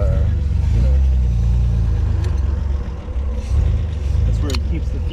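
A 1962 Austin Healey Mark II 3000's inline-six engine runs with a steady, deep rumble close by, holding an even idle throughout, while people talk over it.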